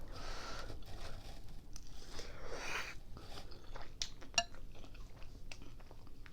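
Spicy noodles being bitten and chewed up close, with soft, wet slurps and chews followed by a few sharp clicks and light crunches, quiet and without talk.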